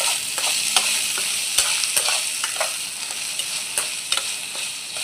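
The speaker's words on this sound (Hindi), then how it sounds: "देखो मेरी भिंडी फ्राई हो रही।" Okra (bhindi) fries in a pan with a constant bright sizzle, and a spatula taps and scrapes at an irregular pace throughout, with no voices.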